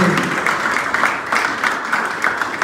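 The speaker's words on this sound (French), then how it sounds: "Un applaudissement, s'il vous plaît, pour les chroniqueurs de sport" A congregation at an anniversary Eucharistic mass applauds sports commentators, giving a continuous, fairly even patter of many hands clapping throughout.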